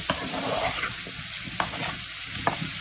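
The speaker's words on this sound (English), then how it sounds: "what we gotta do is stir it" Chicken and peppers sizzling in butter in a pan, a steady close frying hiss broken by a few short scrapes and knocks of stirring.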